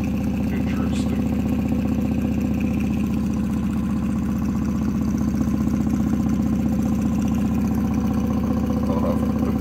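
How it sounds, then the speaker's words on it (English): A magnet-powered pulse motor runs on 24 volts with a steady, fast mechanical buzz and hum, a constant even drone at high RPM throughout, close and fairly loud. "seeing this motor run at the way higher RPMs with the same amount of power going into it is pretty interesting"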